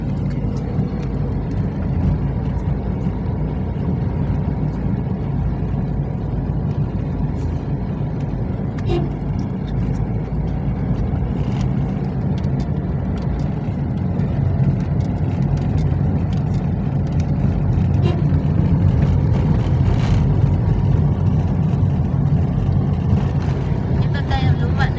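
Steady low engine drone of an old car driving toward Tagaytay, continuous and fairly loud inside the cabin, with people chatting over it throughout.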